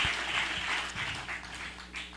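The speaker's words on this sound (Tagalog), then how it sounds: "Isang malakas na palakpak sa ating dakilang Diyos na buhay." A congregation applauds during a Filipino church service, a dense, steady wash of many hands clapping at once, fairly loud and continuous, with a low hum underneath and no speech over it.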